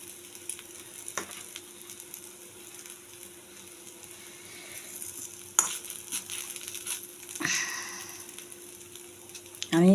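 Batter-coated fish frying in oil in a pan, with a soft, low sizzle throughout, broken by a few sharp clinks and scrapes of a utensil against the pan.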